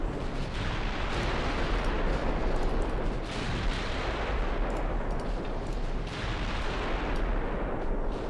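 Naval guns fire continuously during a video game sea battle, a dense roar of shells launched downrange with heavy rumbling booms swelling in waves over eight seconds, loud and close throughout.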